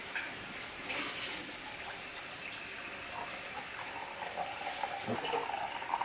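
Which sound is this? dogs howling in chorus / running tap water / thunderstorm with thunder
running tap water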